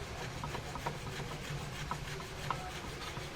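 Wood rubbed or sanded by hand, giving quiet, close scraping strokes in an irregular rhythm with a few slightly sharper scuffs over low background noise.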